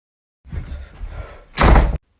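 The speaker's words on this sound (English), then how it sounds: "Do you have to bust in the door every time?" A door bangs open with a loud, abrupt thud after some low shuffling and rustling close by, then stops.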